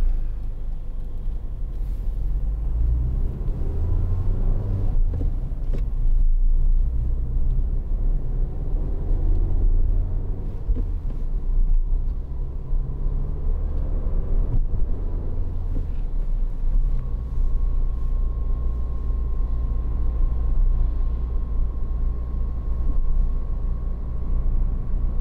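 A 2013 Citroen DS3 1.6 VTi DStyle Plus engine drones steadily from inside the cabin, with low rumbling road noise and brief dips as gears change, rising to a sustained higher tone toward the end.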